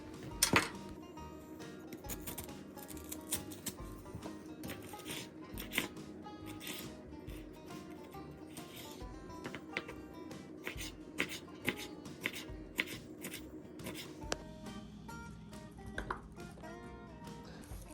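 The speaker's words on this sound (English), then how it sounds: "I like to add 2 or 3 jalapeno peppers. I deseed them and dice them." A knife dices deseeded jalapeno peppers on a cutting board, producing rapid, quiet, irregular tapping chops close by with no talk.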